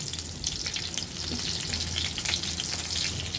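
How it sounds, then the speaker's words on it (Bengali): Steady crackling sizzle of raw jackfruit pieces frying in hot oil until browned, continuous and fairly close, with no voices. "এভাবে উল্টিয়ে পাল্টে ব্রাউন কালার করে ভাজা ভাজা করে দিতে হবে"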